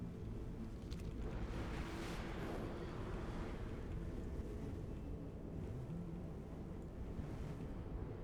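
Steady, dense roar of a fel waterfall in the Hellfire Peninsula area of a video game, a continuous broadband rush with no voices over it.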